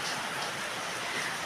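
Heavy rain pouring outdoors during Typhoon Kristine, a dense, steady hiss of downpour with no breaks, fairly loud and uniform, with no voices.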